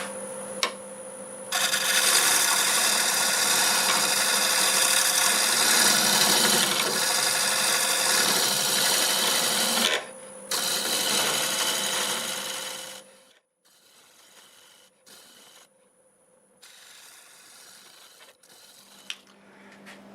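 Wood turning on a lathe being sanded, a steady loud rasping rub running continuously for about twelve seconds, then dropping away to quieter, intermittent scraping and low hum.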